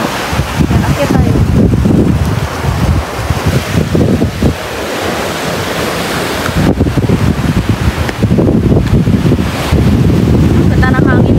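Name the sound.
wind on a boat at sea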